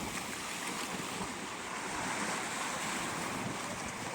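Big ocean waves on the Salish Sea wash and roar continuously, a broad steady rush mixed with wind buffeting the microphone, fairly soft overall.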